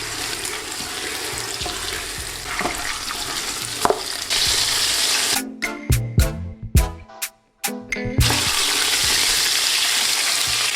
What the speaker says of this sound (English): Now in with the whole chicken. I'm just gonna sear this from both sides.